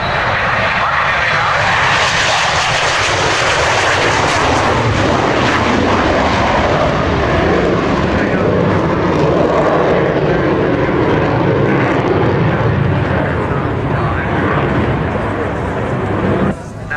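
At an air show flypast, an aircraft engine roars loudly and continuously, swelling as the plane comes in, with a crowd murmur and faint voices beneath.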